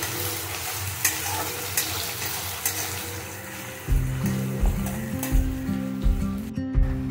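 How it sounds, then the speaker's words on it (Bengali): Chopped onion with black cumin frying in hot oil for a pomfret dish, with a steady sizzle and repeated scraping stirs. A low hum is audible throughout, and no one speaks. "ওই তেলে আমি 1/2 চামচ মতন কালো জিরে দেব, আর দিয়ে দেব কেটে রাখা একটা পেঁয়াজ কুচানো। পেঁয়াজটা নাড়তে থাকবো।"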